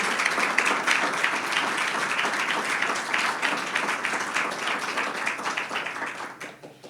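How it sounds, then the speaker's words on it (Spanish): A church congregation gives a strong round of applause at a Sunday service, crowded clapping that stays full and lively before tapering off at the end. "Denle un fuerte aplauso al Señor, por favor."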